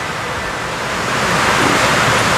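Steady broadband rain hiss, even and continuous throughout, heard outdoors at night near a coffee shop, with no voices.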